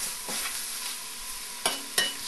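Beef chunks, gravy beef cut from ossobuco, stirred into curry in a pan, giving a steady soft sizzle with a few sharper scraping clatters from the spoon near the end.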